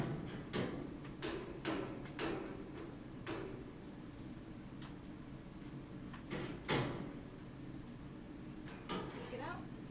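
A metal kennel door clatters and bangs shut amid several sharp rattles and clanks, with a person talking quietly in the background of a veterinary clinic.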